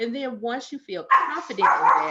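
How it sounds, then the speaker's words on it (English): A dog barks a few times at close range in a home, with sharp, tonal yips overlapping a person who keeps talking through them. "that's my dog"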